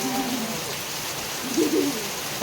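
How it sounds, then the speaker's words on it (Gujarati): Steady rain that has been falling for a while gives a continuous, even patter throughout, with a brief low coo-like sound near the end. "ક્યારનો વરસાદ ચાલુ છે"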